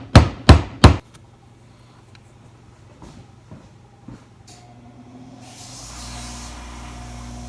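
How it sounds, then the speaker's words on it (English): A small mallet taps a wooden guitar neck part into its hole, three sharp knocks in quick succession, followed by softer faint taps and then a low steady hiss. "And I've got a little mallet to do that with."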